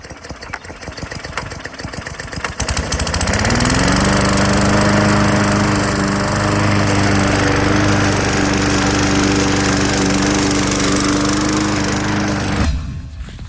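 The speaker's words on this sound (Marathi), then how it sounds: "फायनली आमचं लॉन मारून झालं आहे, ग्रास कटिंग करून झाले." A lawn mower starts up and runs steadily while cutting grass in a front yard, its engine loud and close with a rising then constant drone and whirring blade noise, cutting off abruptly near the end; nobody speaks.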